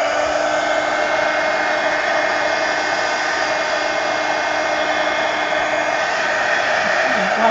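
Steady whirring drone of a hand dryer blowing on distress ink over an art journal page, continuous and close at an even level throughout.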